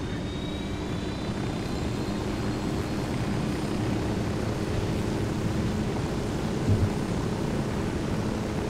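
Helicopter flying in the video game Ghost Recon Wildlands, a steady loud rotor and engine drone that holds unchanged throughout with no voices.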